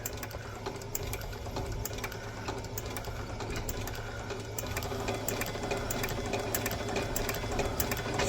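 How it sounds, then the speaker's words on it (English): Industrial upper-stitching machine sewing a very thin, thinned-down leather welt onto an army boot at a cobbler's bench, running as a steady, fast, continuous mechanical whir with a rapid needle rhythm throughout, close and even. "now we're using a machine that's made for stitching uppers"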